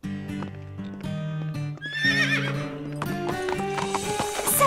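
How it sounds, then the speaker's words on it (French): A cartoon horse trots with rhythmic clip-clopping hooves, then gives a loud whinnying neigh midway, followed by more hoofbeats and a bright final flourish, all with a musical, produced character. "je vais sceller son cheval."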